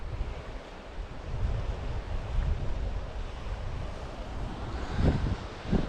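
Flooded river in Glen Clova, Scotland, a broad steady roar of rushing water churned with gusting wind buffeting the microphone, loud and continuous with no talk.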